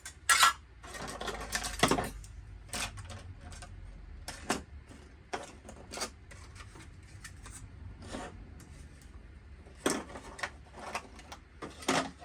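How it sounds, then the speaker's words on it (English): A heavy metal cooking pot clanks and scrapes against camp gear as it is set up, with irregular sharp knocks and rattles of cookware and utensils between quieter rubbing sounds. "I've got a real heavy pot. Let's just set it up just like this."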